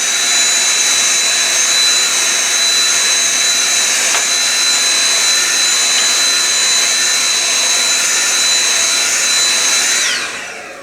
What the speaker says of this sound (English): Yeah, we're gonna vacuum this part.